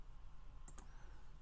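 Two quick computer clicks, from a mouse or a held keyboard key, sound close and light against a faint steady hum, with nothing else around them.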